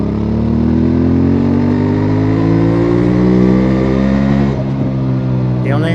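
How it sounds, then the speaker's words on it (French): A QJMotor SRT600SX or SRT700SX trail motorcycle with a 180-degree crank parallel twin accelerates in third gear from about 50 km/h. The engine is close and loud, with a rising rumble that climbs steadily in pitch before easing off. "en troisième, on accélère."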